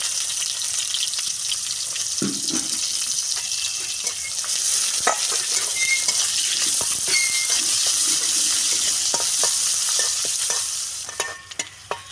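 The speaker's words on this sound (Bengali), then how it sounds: "পেঁয়াজটা আমার ভালো করে ভাজা হয়ে গিয়েছে" Chopped onion fries with cumin in a pan for ghugni, a continuous bright sizzle with scattered stirring scrapes and clicks, close and steady, tapering off near the end; no one speaks.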